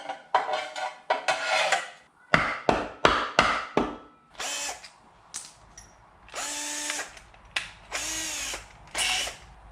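A power drill fitted with a 5/32 drill bit bores holes while installing a keel guard on a 1997 Ranger 461 boat, sounding as a fast series of short whirring bursts early on, then several longer, louder whining runs with pauses between.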